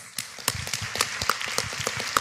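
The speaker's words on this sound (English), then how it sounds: "So let's give them all a round of applause." Brief burst of applause from a crowd, many hands clapping in a dense, steady patter for a couple of seconds.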